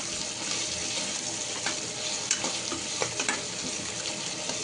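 Green chilies sautéing in a pan for a peas and potato pulao, a soft steady sizzle with scattered scraping stirs and light clicks, fairly quiet and with no talking.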